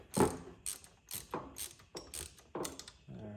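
A ratchet tightens the small IAC valve bolt on a Chevy S10, giving about six quick, close bursts of sharp clicking at an even rhythm, with no talking.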